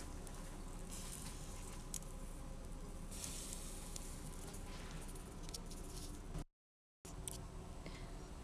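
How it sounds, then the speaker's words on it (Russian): Champignon mushrooms sizzle on a barbecue grill, a steady close crackle and patter with a brief break of silence near the end. "Сначала обжарим с одной стороны."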